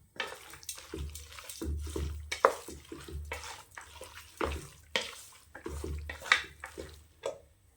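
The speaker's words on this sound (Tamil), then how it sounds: "தண்ணி சேர்த்துக்கலாம்." Water poured into a goat intestine fry mixture being cooked for kudal varuval, a series of splashing, gurgling pours and drips in irregular bursts, fairly quiet with no talk.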